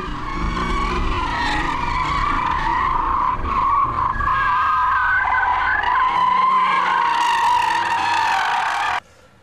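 A Porsche 911 Carrera 4 driven hard, its tires skidding and squealing in a loud, sustained howl over steady engine roar, ending abruptly near the finish.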